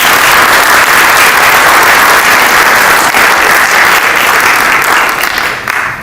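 A loud, full round of applause from the audience at a book launch event, dense clapping sustained throughout and tapering slightly at the end.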